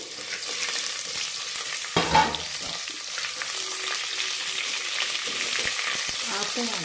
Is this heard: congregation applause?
no